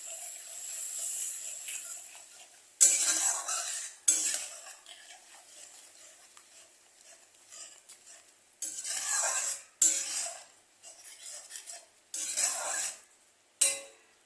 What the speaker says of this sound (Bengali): একটু জল দিয়ে এটাকে কষাবো।